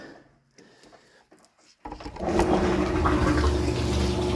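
A large-capacity sugar syrup mixer for honeybee feed, a motor churning clear water in a white barrel, starts after near silence with a sudden loud whooshing roar and low hum that holds steady to the end.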